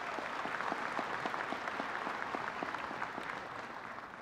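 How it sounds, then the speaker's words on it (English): A large crowd at a spring morning commencement ceremony applauds steadily, a dense, even wash of many hands clapping at close range, holding at full strength for the whole stretch with no voices rising above it. "Please, let's give them a round of applause."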